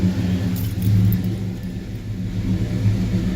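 A 1972 Monte Carlo's engine rumbles steadily while the car drives, a loud, close, continuous low drone with mild surging, and no talking.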